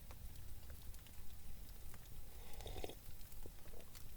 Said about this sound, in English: watching a fire, listening to some raindrops, birds